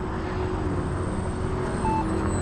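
Turbo Timber Evolution 722mm RC airplane cruising overhead, a steady electric motor drone with a thin tonal whine, fairly distant and unbroken, no voices.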